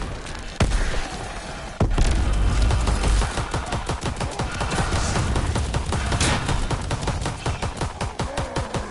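Rapid automatic gunfire from a 9 sap weapon in the WWII Zombies video game, dense repeated shots rattling continuously with a few heavier booming blasts near the start, no voices.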